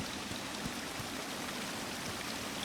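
Steady broadband rush of falling water from a waterfall in the game Hollow Knight Silksong, a constant even wash with no breaks and no voices.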